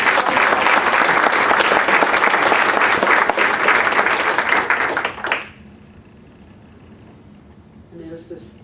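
A church congregation at a Unity of the Valley service in Savage, Minnesota, applauds loudly and steadily for about five seconds. The clapping then stops abruptly, leaving quiet room tone and a brief faint sound near the end.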